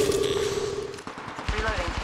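Automatic weapon fire in Apex Legends Mobile during a squad fight, a tight rapid burst of shots near the end following a brief tone, with a faint voice underneath.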